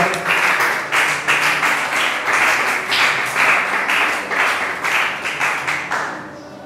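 Church congregation applauding together, sustained dense clapping with a rhythmic pulse, loud and close, continuing for several seconds before starting to thin out.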